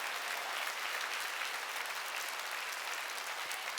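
A church congregation claps together during a Wednesday worship service, producing a dense, continuous wash of applause that sounds somewhat distant and muted.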